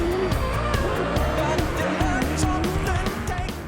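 Triple Eight's drift-spec Red Bull Supercar being driven in practice, its engine roaring loudly and steadily with rising and falling revs and a rough, continuous drone throughout.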